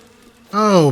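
Bees in the video game Breath of the Wild burst into a loud, close buzz that starts abruptly halfway through after a quieter hum.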